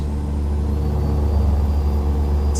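A modified truck speeding at about 87 mph in American Truck Simulator gives a steady, deep engine drone with a low rumble, continuous and close, with no voices.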